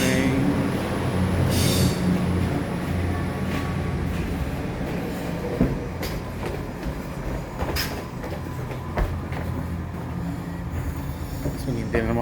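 A train passes on rails in Cornwall, loud and close, with a continuous rumbling roar, clattering wheels and occasional metallic squeals and bangs.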